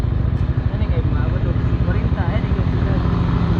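A motorcycle engine runs steadily, with a low, droning rumble held at high RPM for the whole stretch. The sound is close and continuous, with voices faintly underneath.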